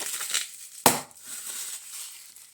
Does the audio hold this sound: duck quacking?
no